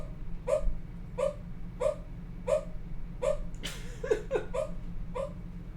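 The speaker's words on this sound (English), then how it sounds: "I hear my dog. That nigga dreaming." A sleeping dog whimpers while dreaming, a series of soft, evenly spaced high yips and whines, close by, ending in a few quicker overlapping cries.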